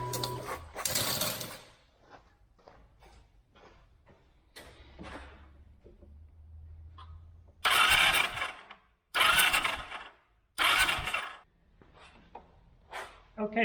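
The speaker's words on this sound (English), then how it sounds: "I guess what I can try to do is just hit the starter once" A Kawasaki Vulcan 900 motorcycle that has sat for eight years has its starter pressed, giving loud bursts of mechanical cranking and whirring in several separate pulses, with someone talking between them.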